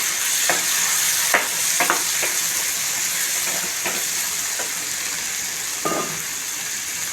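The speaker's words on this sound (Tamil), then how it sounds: "நம்ம வெட்டி வச்சுருக்க தக்காளி சேர்த்துக்கலாம் நல்லா மசிஞ்சு வரைக்கும்" Chopped tomatoes fry in a village-style country chicken gravy with a steady close sizzle. A few sharp knocks and scrapes of stirring break through the bubbling.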